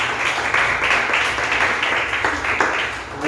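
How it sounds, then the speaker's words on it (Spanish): A church congregation claps together in a dense, steady burst of applause that stays loud and even for the whole few seconds, with some voices mixed in. "Dale un aplauso fuerte al Señor."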